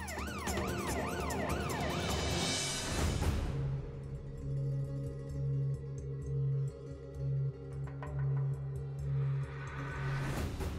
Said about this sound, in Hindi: ये तो दीदी पुलिस की सायरन की आवाज है, और अपने ही घर के बाहर से आ रही है।